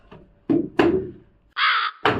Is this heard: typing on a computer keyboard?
no